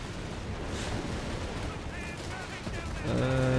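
Rapid video game gunfire crackles in bursts against a noisy, busy battle background with German tanks, with a louder tonal sound rising at the very end.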